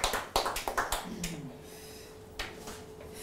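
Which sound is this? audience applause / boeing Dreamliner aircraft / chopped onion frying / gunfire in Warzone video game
audience applause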